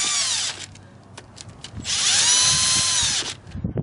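Power drill driving screws into a Rekluse EXP clutch cover on a BMW F800GS motorcycle: two close, loud whirring bursts with rising and falling pitch, separated by a brief pause with small handling noises.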